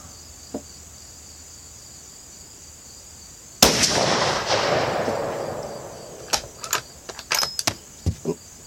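A single sharp, loud crack from a rifle firing .450 Bushmaster Winchester ammunition outdoors, with a long decaying tail, set against steady cricket chirping, followed by several small clicks and clinks nearby.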